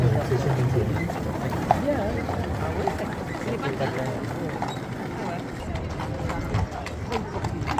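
Hooves of a Breton horse and a Catalan donkey clip-clop along outdoors at a town event, a loose rhythmic clatter under constant crowd chatter and nearby voices.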